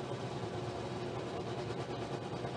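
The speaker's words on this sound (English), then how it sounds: "Up go the revs." A grid of Formula 3 race cars revving their engines together at the start of the 2019 Macau Grand Prix street race: a dense, continuous, loud mechanical roar with no break.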